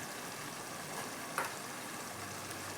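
Chicken masala with chopped tomato sizzling and frying in a pan, a steady soft hiss with a faint stir of the spoon partway through.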